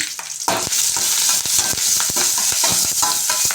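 Curry leaves and salt fry in a pan for coriander rice, a close, continuous sizzle broken by regular spatula scrapes and clacks as the mixture is stirred.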